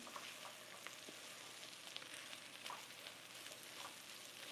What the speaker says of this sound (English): you're just gonna sweat those vegetables down a little bit